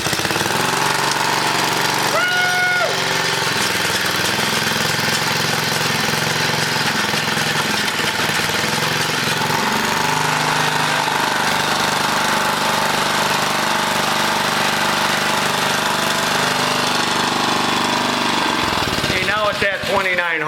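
An old small engine runs steadily after repair, a loud, even mechanical chatter close by that holds a constant idle for most of the time before faltering and sputtering near the end.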